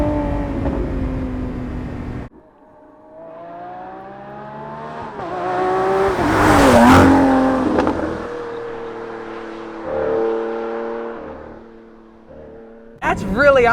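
Lamborghini Aventador SVJ Roadster, a 2022 model, accelerating hard, its engine note climbing in rising harmonic sweeps that swell loudest near the middle, with people talking over it throughout.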